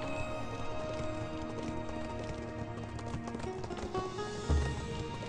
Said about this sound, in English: This horse be ready to go.